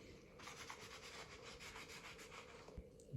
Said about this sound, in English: First I'm gonna clean this with acetone.